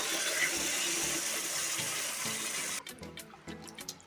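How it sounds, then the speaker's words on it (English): Coconut milk pouring steadily into a pan of meatball curry, a continuous close liquid splash for about three seconds that then stops and gives way to light clinks and handling noises. "Now we're going to add a little coconut milk."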